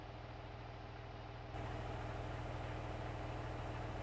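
A CLAAS farm vehicle idles in Farming Simulator 19, a steady low rumbling drone that steps up slightly in level partway through and holds.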